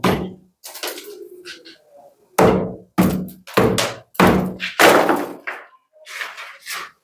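Someone taps on a cracked, spalling concrete ceiling slab in a 30-year-old house, giving a series of dull, hollow knocks in irregular bursts with short pauses, close and fairly loud.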